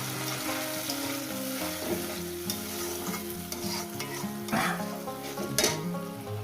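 Spice paste for a Bengali fish curry sizzles steadily in a pan while being stirred, with scraping strokes and faint crackles, close by and without talk.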